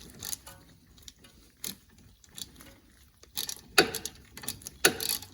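A ratchet clicks in short bursts while tightening a wheel bearing bolt on a Chevy Cruze, with quiet gaps between bursts and a couple of sharper clacks near the end, close and fairly faint.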